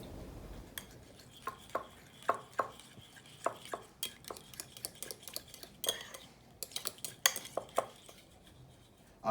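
Eggplant salad sauce with agave syrup is mixed in a bowl, a fast run of light clinks and scraping taps from a utensil, close but fairly quiet with no voice.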